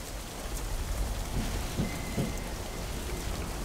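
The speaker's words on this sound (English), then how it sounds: "Oh, it's raining!" Steady rain pours down in the video game Command and Conquer Renegade, with a few low rumbles of thunder rolling in midway; no voices.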